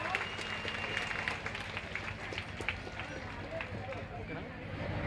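A crowd claps with a rapid, steady patter at a Telugu public meeting, where an MLA addresses women's self-help groups about loan waivers. The applause carries on under a speaking voice and keeps a fairly even loudness throughout.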